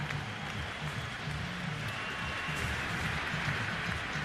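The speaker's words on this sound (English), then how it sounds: "They're standing and applauding" Baseball fans at a Red Sox playoff game stand and applaud, a steady wash of crowd clapping and cheering heard from a distance throughout.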